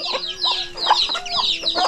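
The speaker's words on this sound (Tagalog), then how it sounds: "Munti yung manok ni Tatay Riot ah." Native chickens cluck close by in a rapid run of short, sharp calls over a faint steady hum, with no voices.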